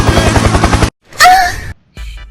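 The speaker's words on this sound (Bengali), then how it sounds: "Helicopter, helicopter." A helicopter in the horror video game The Baby in Yellow gives a loud, rhythmic rotor chop for about a second, then cuts off. A brief voice and a softer burst of noise follow.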